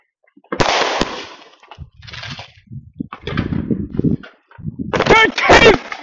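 Family fireworks fired in a backyard display, several loud sharp bangs and crackling bursts mixed with people shouting commands and cheering in between the shots.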